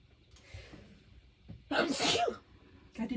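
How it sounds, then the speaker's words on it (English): A single loud sneeze bursts out after a quick inhale, close to the microphone, followed by a short breathy exhale. "Okay, I have to sneeze."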